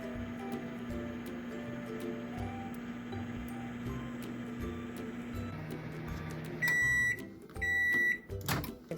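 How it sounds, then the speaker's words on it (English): A microwave oven hums steadily while melting nose wax in a small double boiler, then gives two loud electronic beeps near the end. "I'm just going to put it in the microwave."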